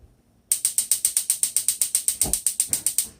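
A gas stove knob is turned to high, setting off a rapid, evenly spaced run of loud clicking from the igniter after a moment of quiet, with no talk.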